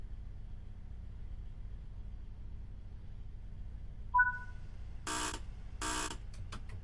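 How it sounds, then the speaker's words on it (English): In the Train Sim World 5 game, aboard a Class 158 train on the Midland Main Line, a short tone sounds, then two distinct buzzes follow about a second apart over a low steady engine hum, with a few faint clicks after. "Wait for our guard to give us the beep beep."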